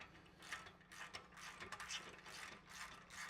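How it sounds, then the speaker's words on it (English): Rapid ratcheting clicks from a hand ratchet tightening the front clamp of a slip-on exhaust on a Harley Road Glide, a steady close run of mechanical clicking with brief pauses. "at this point, we're just going to tighten up that front clamp"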